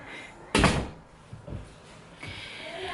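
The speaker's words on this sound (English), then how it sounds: "Close the door behind you." A door closes with a sharp thud and rattle in a home, followed by faint bumps and quieter room noise.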